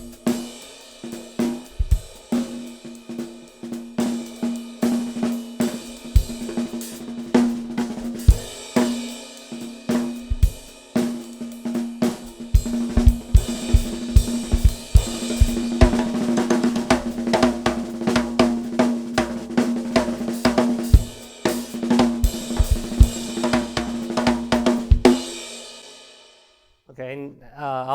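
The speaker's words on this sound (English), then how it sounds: "I'll play a little bit of swing for you and let you kind of see what I'm talking about, all those little grace notes" A drum kit plays a swing groove using traditional grip, with ride cymbal shimmer and soft snare grace notes in a steady, close rhythm. It ends abruptly, followed by a brief moment of other sound.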